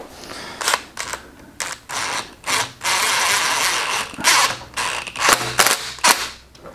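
A plastic fitting on a portable DIY overland shower is hand-tightened, giving a string of close, dry plastic clicks and ratcheting bursts with short pauses between turns, no talking.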